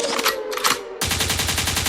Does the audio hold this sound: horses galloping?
no